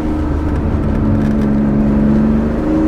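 A Porsche 911 Carrera 2.7 RS Touring drives at low speed, its engine giving a loud, steady droning hum from inside the cabin, holding an even note with no talking.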